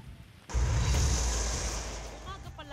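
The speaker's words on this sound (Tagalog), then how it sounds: "Tuloy-tuloy ng buhos ng ulan na may kasamang malakas na hangin." Typhoon weather in Isabela province, with strong wind and heavy rain: a sudden loud rush of wind and rain noise that stays steady and gradually eases, with faint voices surfacing near the end.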